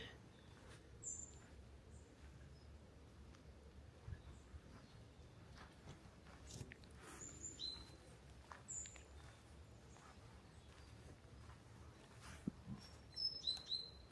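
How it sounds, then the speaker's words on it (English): A great tit calls outdoors at the St Lawrence landslip on the Isle of Wight. Its high, short chirps are faint and scattered over a low, quiet background rumble. "Great tit calling. I think that's a great tit anyway."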